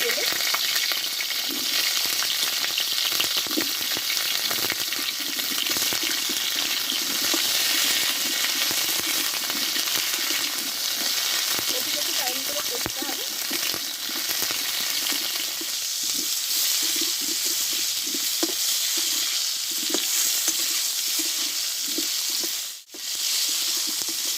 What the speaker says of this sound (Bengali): কেটে রাখা কপিটা আমি কষে নেবো